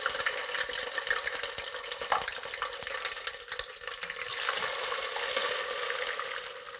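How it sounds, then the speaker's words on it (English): Meat spooned into hot oil in a pot fries with a steady, dense sizzle and crackle throughout, close and fairly loud. "So our oil is hot now, and we're going to gently spoon in our meat."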